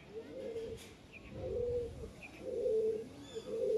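Pigeons coo close by in a steady rhythm, with a low, throaty call about every second and faint chirps between.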